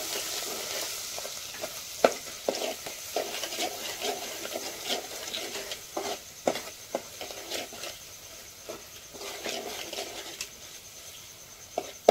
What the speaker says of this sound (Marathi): मस्त ग्रेव्ही ढवळून घ्यायची आहे।